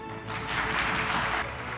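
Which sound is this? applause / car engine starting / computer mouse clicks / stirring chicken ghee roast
applause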